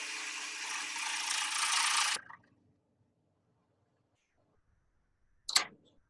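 Skew chisel cutting wood on a lathe at a woodturners' meeting, a loud steady rasping hiss for about two seconds that stops abruptly, then silence and a short scraping burst near the end.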